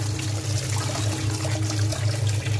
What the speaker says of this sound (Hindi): इस तरह ऊपर से इसके ठंडा पानी डाल दिया करें